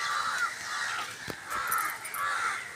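Crows caw in a village, several harsh calls repeating in a loose rhythm, fairly close and clear over a faint outdoor background.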